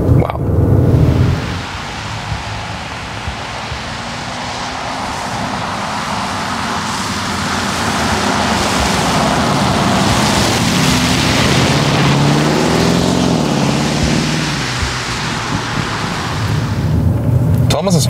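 Porsche Cayenne Turbo Coupé V8 pulling hard under acceleration, a sustained broad engine and road roar that swells and holds steady for most of the stretch, with a voice speaking over it now and then.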